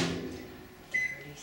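A microwave oven heats Christmas fudge for thirty seconds and gives a faint, brief hum. A short tonal beep or whir then rises near the end, close by and quiet, and nobody speaks.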